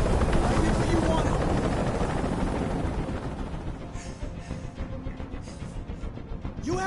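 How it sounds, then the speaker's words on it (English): A helicopter's rotors churn in a loud, steady roar that fills the scene, slowly thinning toward the end, with no voices over it. "I can't stand that noise anymore. Tell that helicopter to get out of here."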